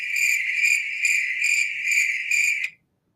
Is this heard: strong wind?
no